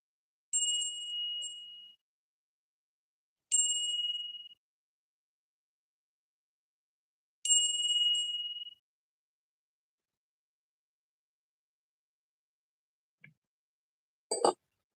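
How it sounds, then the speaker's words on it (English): A bell rung three times as a prayer, each strike ringing clear and sustained for about a second before fading, with long silent gaps between, followed by a couple of faint knocks at the end. "I'm going to ring the bell 3 times."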